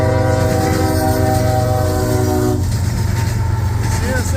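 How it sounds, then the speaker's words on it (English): A CSX freight train of tank cars led by two locomotives passes eastbound, its horn blaring loudly over a heavy rumble before cutting off, leaving the grinding roll of the cars. "here comes another train. Tank cars, 3 locomotives."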